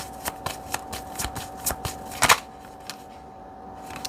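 Tarot cards handled and laid out on a table, a series of soft close flicks and taps spaced about a beat apart, with one sharper snap near the end and quiet afterward.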